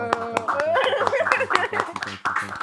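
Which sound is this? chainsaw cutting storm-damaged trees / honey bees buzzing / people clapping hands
people clapping hands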